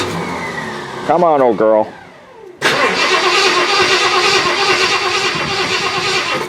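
An old car engine cranks in the cold, first grinding with a rising tone and speech over it, then roaring into a loud, steady run that holds to the end; someone talks near the start.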